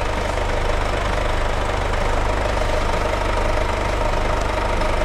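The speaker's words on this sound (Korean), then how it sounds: "엔진 소리 일정합니다." A Mercedes-Benz C-Class W205 C220 d 4MATIC diesel idles steadily, heard up close at the open engine bay, with an even, loud clattering rumble that holds throughout and no talking.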